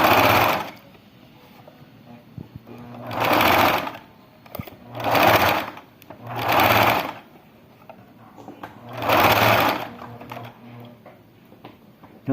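A sewing machine stitching a small baby shoe runs in four bursts of a few seconds each, with quiet pauses between them. Its steady mechanical whir is close and fairly loud.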